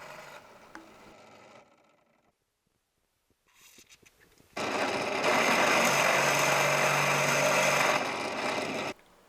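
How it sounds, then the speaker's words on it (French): Drill with a slightly larger bit enlarging screw holes in metal for a portable workshop build: after quiet handling noises, a loud steady whir grinds on for about four seconds, close up, with no talk. "Avec un forêt un petit peu plus gros, j'agrandis l'entrée de mes trous"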